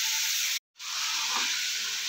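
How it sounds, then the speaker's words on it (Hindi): Chicken browning in ghee in a karahi over low heat for a street-style Peshawari charsi karahi gives a steady, close sizzle and hiss with one brief silent gap partway through. "हमने चिकन को घी में डाल दिया है और इसे अच्छी तरह ब्राउन होने तक हल्की आंच पे"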